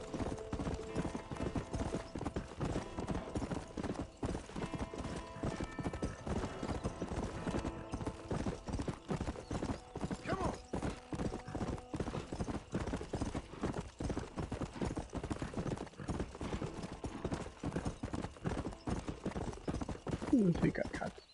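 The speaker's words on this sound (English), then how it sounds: "I think I'm gonna have to get used to the way this horse runs." A horse gallops continuously in the Western video game Red Dead Redemption, its rapid, even hoofbeats loud and close throughout, with someone speaking over the running.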